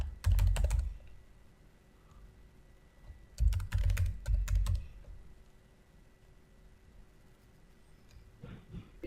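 Credentials are typed on a computer keyboard in two quick clusters of close, crisp key clicks separated by a pause, with a brief click again near the end.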